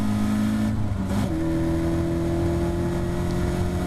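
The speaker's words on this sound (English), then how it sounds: "accelerating hard up the hill and into 4th gear as we head down towards the Knickerbrook chicane complex" Caterham Academy race car accelerating hard uphill at Oulton Park, a loud, close engine drone that briefly dips during a gear shift into 4th, then holds a steady high note.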